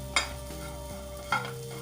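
Spiced black chickpeas (kala chana) are stirred in a pan, a spoon scraping and clanking against the metal in a few distinct strokes over a steady low hum, with no talking.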